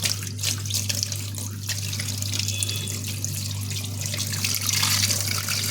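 Tap water runs steadily into a pot during home paneer making, a continuous close splashing hiss over a low steady hum, with no talking.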